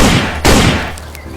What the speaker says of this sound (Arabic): خل ارمي له طلقتين بالكتف يبينون